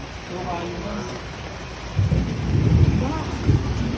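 Heavy typhoon rain in Metro Manila, Philippines, a steady hiss of rainfall with deeper rumbling gusts swelling midway, heard nearby with faint voices underneath.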